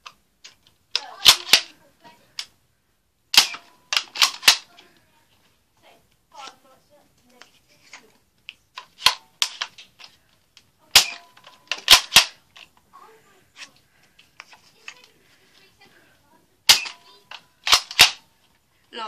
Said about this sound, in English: Just prime the blaster. And let's fire.